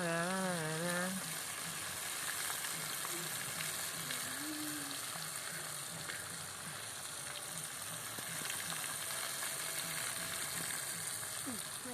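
Pearlspot fish frying in hot oil with chilli sizzle steadily in a pan, a constant crackling hiss with occasional stirring scrapes and a brief voice at the start.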